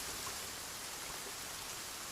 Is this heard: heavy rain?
yes